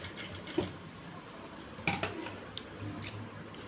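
Scissors snipping through elastic during hand sewing: a few quiet, short crisp snips spread apart over a faint steady background hum, close by and with no voice.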